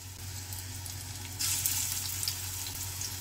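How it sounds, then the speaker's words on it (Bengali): Spinach pakoras dropped into hot oil over a high flame give a steady, close frying sizzle that swells louder partway through and holds, with no talking. "এবারে আস্তে আস্তে পকোড়াগুলো আমি ছেড়ে দিচ্ছি।"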